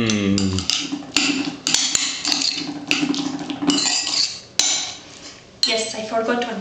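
Utensil knocking and clinking against a bowl as sauce is worked into raw steak tartare meat, a series of sharp metallic taps and scrapes at an uneven rhythm, close and fairly loud, with faint kitchen background.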